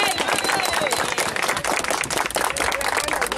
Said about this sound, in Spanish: doctora Kenia Mejía de Bisonó, a quien recibimos en esta localidad de Pedro Sánchez con un fuerte aplauso de agradecimiento.